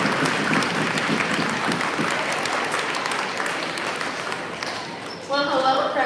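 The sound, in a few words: crowd applause welcoming a speaker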